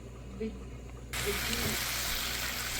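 Frozen ground beef for goulash hits a hot pan, and a loud, steady broadband sizzle suddenly starts after a short, quiet stretch of faint kitchen noise.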